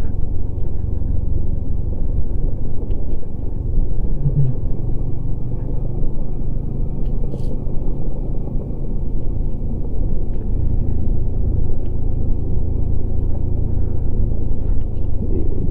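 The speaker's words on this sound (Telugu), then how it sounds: "ఇంకా నేను సుర్రమని జారిపోయి ఇంజిన్ బ్రేకింగ్ వాడుకుంటున్నా" A vehicle using engine braking while coasting down a mountain highway, giving a loud, steady low rumble that holds unbroken throughout, with no talking over it.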